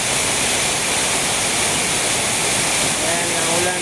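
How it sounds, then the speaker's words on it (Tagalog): Heavy typhoon rain pours down hard over flooded streets in Golden City, Laoag, a dense, constant roaring hiss, loud and close throughout. "Ayan, ang ulan dito."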